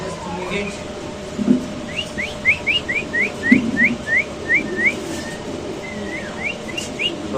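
Fancy pigeon at a pigeon market giving a run of quick rising whistled calls, about a dozen in a row, close and moderately loud, with someone talking in the background.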